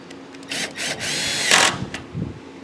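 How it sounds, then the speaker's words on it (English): A power drill whirs in several short bursts, rising in pitch as it drives screws, with a longer final burst and a light clunk afterward. "So switch from your socket set back to your drill."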